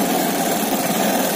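A Bajaj Pulsar motorcycle with a battery charging problem runs close by, its engine a loud, steady, buzzing drone throughout.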